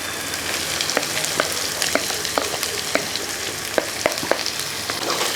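Finely chopped big onion sizzles in hot oil for a brinjal sambar, a steady bright crackle with occasional sharp pops and light stirring clicks, close by.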